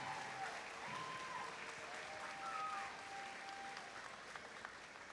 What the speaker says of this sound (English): can we give your mentors and coaches a huge round of applause?